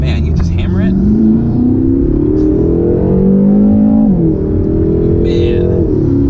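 A 2017 BMW M6 Competition engine with DCT gearbox roars close up under hard acceleration, its pitch climbing steadily, dipping briefly, then pulling again in one loud continuous surge.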